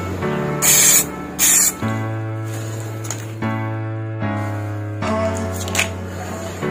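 Spray gun bursts lay a matte top coat during carbon film hydrodipping: two short loud hissing blasts, then further sprays later over a steady motor hum, with a voice briefly heard.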